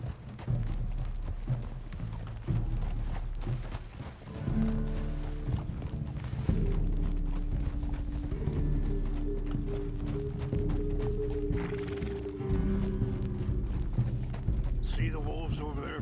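A horse ridden in Red Dead Redemption 2, giving rhythmic clip-clop hoofbeats under music and spoken dialogue, with a brief whinny.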